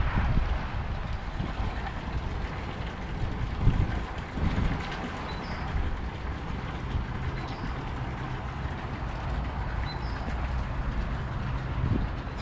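Steady outdoor wind roars across the microphone aboard a canal boat on a cold, sunny, windy day, a continuous broadband rush with low rumble and no talking.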